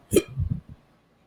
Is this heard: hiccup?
yes